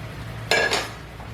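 A spatula scraping once across a hot pan of drained noodles, a short, close metallic scrape with a quick double stroke over a low background hum.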